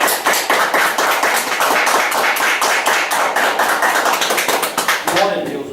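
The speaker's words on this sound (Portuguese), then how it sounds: "Você pode aplaudir Jesus." A church congregation claps for Jesus in quick, rhythmic unison at a service, the sharp beats filling the room steadily for several seconds before breaking off near the end.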